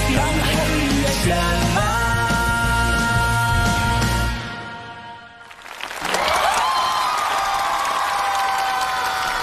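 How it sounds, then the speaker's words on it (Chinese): Applause and cheering from a live television audience greet two new duet partners on stage, starting over the fading end of music, dipping briefly, then swelling back loud and sustained. "掌声送给两位新搭档组合"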